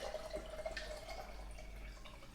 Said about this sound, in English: I am going to add the water up to the maximum line